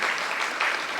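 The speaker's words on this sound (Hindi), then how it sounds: "इनके लिए ताली बजाइए" Audience applause before a dance at a first birthday party, a brief burst of dense clapping that stays loud and even for about a second.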